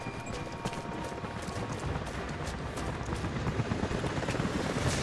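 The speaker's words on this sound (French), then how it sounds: "des hélicoptères arrivent dans votre direction" Helicopters approaching in Rise of the Tomb Raider, a steady rapid rotor thumping with a whirring drone, fairly constant and moderately loud throughout, no voices.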